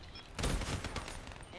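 Gunfire bursts out in Black Ops 3 as a sentry is shot at, a quick, rattling volley of shots at moderate loudness that runs through the second half, with a player's voice mixed in.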